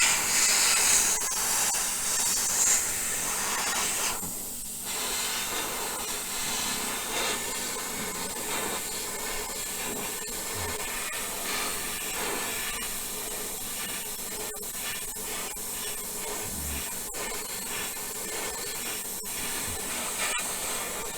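Blue spray paint goes onto the body of an MPC Country Charger model car kit in light misting coats, a continuous airy hiss with brief pauses and slight shifts in intensity.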